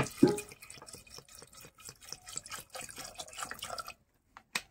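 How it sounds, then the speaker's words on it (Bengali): Water pours into a pot of chickpeas with turmeric and green chilies, a close splashing and dripping stream that runs for about four seconds, then stops, leaving a couple of brief drips. "2 বাটি মতন আমি জল দেব"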